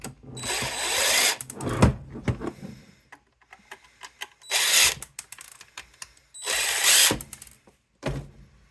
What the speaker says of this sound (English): using a drill to take this thing apart